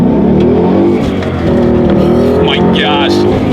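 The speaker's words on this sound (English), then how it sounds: "We'll see how quickly we can get the 2017 Mustang GT up to speed here." A 2017 Ford Mustang GT V8 accelerates hard, its engine roaring loud from inside the cabin with rising pitch through the gears, while a person speaks over it.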